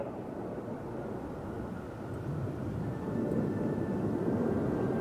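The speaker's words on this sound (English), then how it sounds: "the French aerobatic team" Aircraft of the French aerobatic team passing overhead at an air show, a broad roaring jet rumble that swells gradually louder over several seconds, with no voices.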